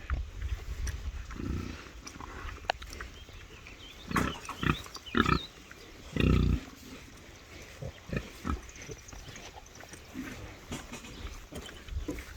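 Sows and a boar on a farm at feeding time, with grunts and squeals breaking out in loud bursts over a steady background of snuffling and rustling, no talk.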